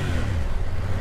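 A BMW F900 GS motorcycle with an Akrapovic exhaust and a cross-plane engine holds a steady, loud, close engine drone with a deep low rumble, running continuously with no talk over it.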